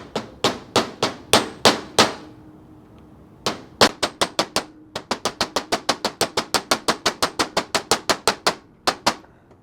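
A new front main seal is hammered into a 30-plus-year-old Cadillac engine with a socket: a burst of sharp metallic strikes, a pause, then a long fast run of close, loud, evenly spaced blows.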